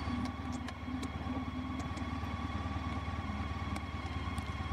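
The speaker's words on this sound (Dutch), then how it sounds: "De trekker." A farm tractor drives past a motorcycle on a road, its engine a steady mid-pitched rumble with some clatter, fairly faint and continuous, heard alongside the bike's own idling engine.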